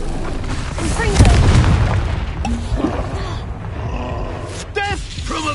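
The Confringo spell explodes in Hogwarts Legacy with loud booming blasts and roaring bursts, close and forceful, while voices shout and talk over the magical combat.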